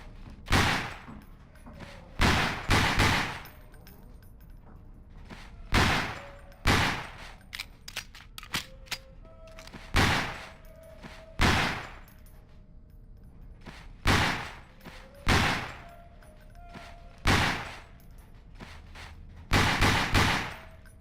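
Gunfire rings out in the video game Underhell as pop-up targets are shot, with sharp loud bursts of one to three shots repeating at intervals of a second or two throughout, and no talk.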